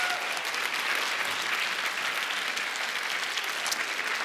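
A large gala audience applauds for Ulf Dageby, a broad, continuous roar of clapping heard from within the hall, steady and even across the whole stretch.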